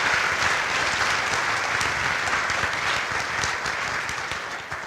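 Audience applause at an innovation hub event, UniverCITZy 2017: dense, steady clapping from a room full of people, loud and sustained throughout before easing slightly at the end.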